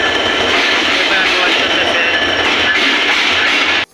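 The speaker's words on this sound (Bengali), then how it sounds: "আজ আমরা ভ্রমণ করব বাংলাদেশের অন্যতম জনপ্রিয় এবং দ্রুতগতির ট্রেন দ্রুতযান এক্সপ্রেস" The Drutojan Express, a Bangladeshi train on the Panchagarh to Dhaka route, runs loudly with a dense, steady rumble and rattle of wagons heard from on board, then cuts off abruptly at the end.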